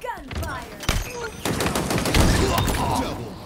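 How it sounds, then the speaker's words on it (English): Rapid automatic gunfire in the video game Halo Infinite during a ranked match, loud dense bursts with sharp cracks and a sustained rattling barrage building in the second half, alongside other game effects. "In a hail of gunfire."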